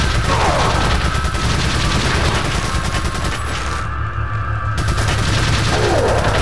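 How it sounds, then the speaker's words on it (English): Dense, loud gunfire from the video game Resident Evil 4 during a boss fight, rapid overlapping shots and booms continuing nearly without pause, no talking. "Just keep shooting."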